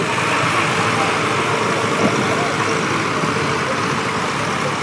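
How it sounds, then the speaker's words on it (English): Tractors idle together in a show parade ring, a constant low rumble, a continuous mechanical drone with no breaks or voices standing out. "Are you waving at the tractors?"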